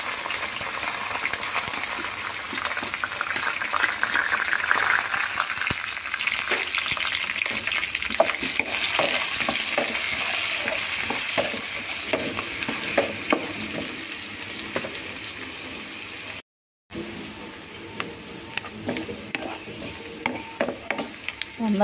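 Chopped onion and green chilli sizzle in a pan under continuous stirring, a steady close hiss with frequent clinks and scrapes, cut by a brief silent gap before frying resumes.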